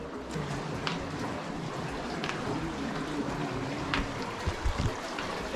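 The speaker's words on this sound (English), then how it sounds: "You can hear the sound of the water." Water flows steadily through an old irrigation canal more than 300 years old in the wilderness near Isfahan, Iran, a soft continuous rushing wash with faint splashes, heard from nearby at low volume.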